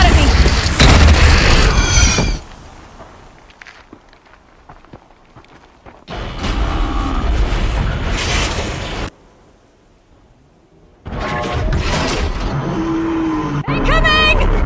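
Deathbringer machine firing in Horizon Zero Dawn: a heavy booming burst of gunfire, a quiet pause, then further loud rumbling barrages with sweeping tonal sounds, plus a brief voice.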